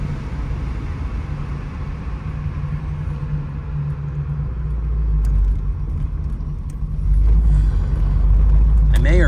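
A 1986 Chevrolet Monte Carlo SS with a 350 engine runs on the road, a steady low rumble heard from the cabin that swells louder twice as the car accelerates.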